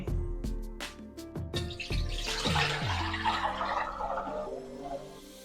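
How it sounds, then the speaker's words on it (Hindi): Water is poured into a pan on a lit stove to boil tomatoes for chicken Afghani karahi. A few sharp drips and plinks lead into a continuous, close pouring rush that slowly fades. "इसमें हम डालते हैं पानी"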